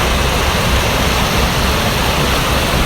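Fast-flowing water in an outdoor stream at sunset in Riyadh, rushing loudly and steadily like a broad torrent with no breaks, close up and with no voices.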